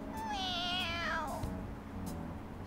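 A cat meows once in the video game Persona 5, a clear, rising-and-falling voiced cry lasting about a second, close and distinct over a low background hum.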